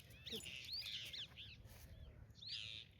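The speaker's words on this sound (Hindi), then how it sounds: "देखो तोते कितने बैठे हुए हैं" Parrots sitting in a flock outdoors as the weather turns stormy give a series of shrill chirps and rising squawks, fairly faint against a low background rumble of wind, with scattered calls and a louder burst near the end.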